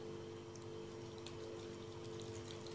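Gelatin is poured into a chocolate mirror glaze, making a faint, steady liquid pour that runs continuously for a few seconds.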